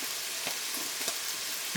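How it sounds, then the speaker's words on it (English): Steady crackling sizzle of seasoned meat frying in a hot pan for carne picada, with occasional louder pops and the scrape of a stir. "Gotta love the sound of frying meat."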